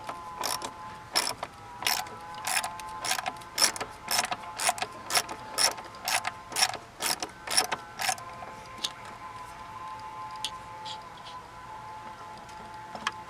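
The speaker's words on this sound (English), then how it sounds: "Oh, come on, ratchet." Ratchet clicking in a repeated series of sharp, evenly spaced clicks while loosening a 5.5 mm bolt on the throttle body of a 1999 Chevy Suburban, close and distinct, then tapering off into a quieter background hum.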